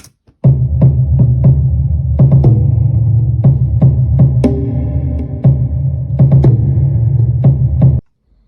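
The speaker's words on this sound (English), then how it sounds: "It's a Logic Pro sampled instrument of percussive Eastern instruments" Resonant struck percussion hits from a Logic Pro sampled set of Eastern percussive instruments ring out over a low droning hum, sounding at an irregular, moderate pace before stopping abruptly.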